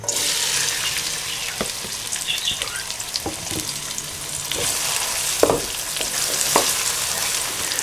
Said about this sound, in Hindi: अब इसको मैं ऑयल में डाल देता हूँ।